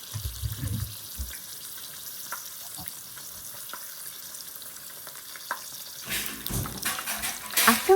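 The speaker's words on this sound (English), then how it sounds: "Fry shrimp tempura." Shrimp tempura frying in oil, a faint continuous bubbling crackle with a few low knocks early on, then louder clattering and sizzling bursts near the end, no voices.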